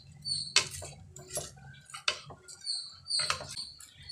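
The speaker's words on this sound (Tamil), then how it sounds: "ரைஸை சேர்த்து நல்லா கலந்து விட்டுக்கோங்க." Rice being stirred into a pot with a spoon while cooking bisibelebath, giving a few scattered metallic scrapes and light clinks against the pot, close and fairly quiet.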